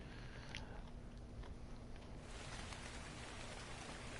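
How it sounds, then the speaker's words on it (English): Rain falls in Ark: Survival Evolved as a steady, hissing patter that fills the background evenly, soft and continuous throughout. "Yeah, and it starts raining."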